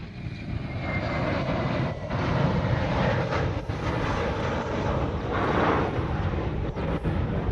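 A Hawaiian Airlines airliner departing Honolulu airport bound for Kailua-Kona, its jet engines producing a loud, steady broadband roar with gusty wind noise and no speech.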